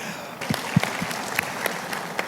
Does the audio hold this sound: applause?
yes